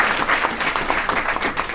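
Short burst of dense audience applause at a university event, many hands clapping close and loud with a busy, uneven texture.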